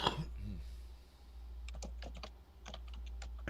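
Keystrokes typed on a computer keyboard come through in quick irregular clicks during the second half, faint and close against a steady low background hum.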